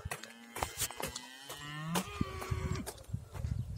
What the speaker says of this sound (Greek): Αγελάδες.